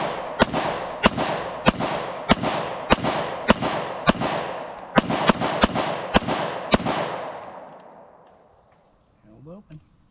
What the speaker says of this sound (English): Fire a few rounds from the VIS-100.